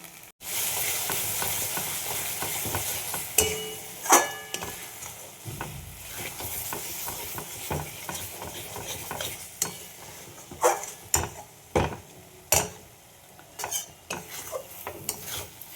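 Spice masala fries in ghee for a mutton dish, a steady low hiss broken by irregular scrapes and clinks of a spoon against the pan, close up and with no voices.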